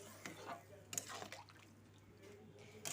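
Water is poured into a pot of raw jackfruit curry being made into a thin gravy, a soft splashing trickle under steady kitchen background hum.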